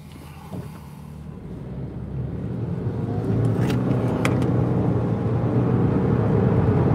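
Toyota Camry accelerating hard on the road, a low engine drone rising steadily in loudness with road and wind noise from inside the cabin, no talking.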